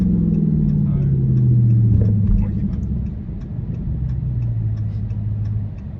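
Dodge Daytona 392 engine rumbling as the car slides through a U-turn, a deep low growl with a falling pitch, heard from inside the car while people talk.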